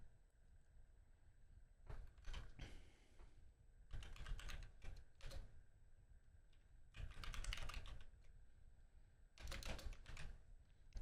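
Computer keyboard typing comes in several separate bursts of rapid key clicks with quiet gaps between them, close and fairly soft, with no talk over it.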